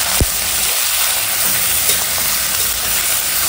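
Marinated prawns, coated in salt and turmeric, go into a pan of lightly fried onions, chillies and ginger-garlic paste, giving a steady broad sizzle with a brief splash at the start, close and continuous with no talking.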